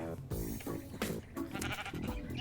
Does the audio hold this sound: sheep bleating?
yes